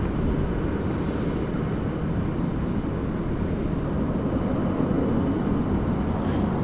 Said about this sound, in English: Qantas 578, runway 16 right, cleared for takeoff